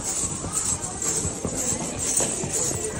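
Horses' hooves clip-clop along the Vaishno Devi pilgrimage trail in a steady uneven rhythm, set amid busy crowd noise with voices talking nearby.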